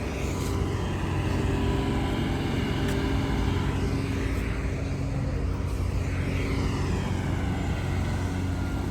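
A loader's diesel engine runs steadily and close by on a steep Nepal hillside while towing a vehicle stuck after slipping, a continuous loud rumble with no talk over it.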